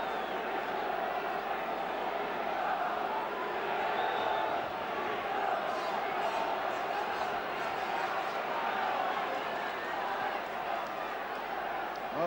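Football crowd at a 1979/80 Division One match between Crystal Palace and Manchester United, jeering a Manchester United player; a dense, continuous roar of stadium voices fills the whole stretch at steady loudness.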